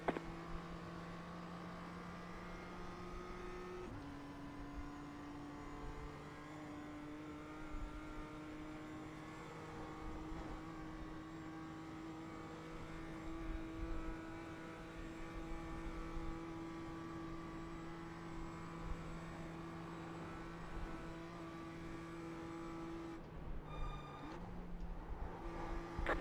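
Onboard race car engine during the Nürburgring 24 hour race: a loud, steady, droning whine that holds pitch for long stretches, with a shift in tone near the start and again near the end. No voices.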